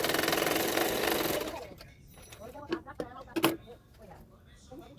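Sewing machine stitching part of a frock, a dense rapid whirring run that stops early, followed by quieter clicks and handling noises with someone speaking over them.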